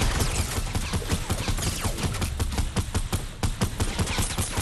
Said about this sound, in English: Is that somebody who's shooting?